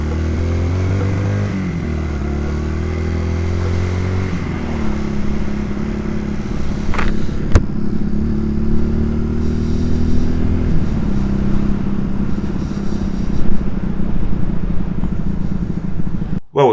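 A Honda CD200 motorcycle on a road test, its engine running loud and close with a steady droning note that rises and falls as it accelerates and eases off, with a brief clatter midway.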